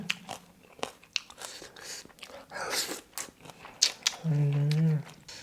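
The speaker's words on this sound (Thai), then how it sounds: "วันนี้กินข้าวเหนียวพี่น้อง" Someone eats sticky rice beside steamed black-pepper chicken, with close, soft biting and chewing sounds broken up by short bursts of talk, and a brief hum near the end.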